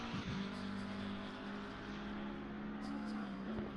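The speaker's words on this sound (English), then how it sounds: "It does have the big V8 at the front. Of course, one of the best sounding cars in the game," A Lexus race car with a big front-mounted V8 drones steadily and loudly in a sim racing game at Zolder, holding a sustained, even engine tone throughout with only faint voices underneath.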